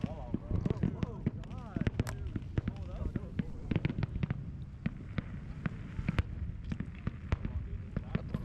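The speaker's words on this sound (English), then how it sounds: "Fireworks." Fireworks crackle and pop through a Fourth of July evening at a Crescent City gathering, sharp bursts scattered irregularly and fairly close, mixed with people chatting and laughing over a steady backdrop of voices.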